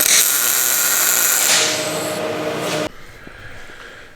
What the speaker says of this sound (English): Die grinder gets in there good enough, just real light